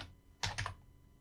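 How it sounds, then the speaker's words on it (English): A few quick keystrokes on a computer keyboard, a short close cluster of soft taps against a quiet room. "I'm not sure if you can type in mobile library."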